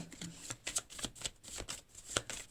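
Tarot cards being shuffled by hand at close range, a quick run of soft papery riffles and slaps in an uneven rhythm, fairly quiet with no talk over it.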